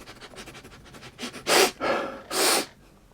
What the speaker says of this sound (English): Give this a sniff test.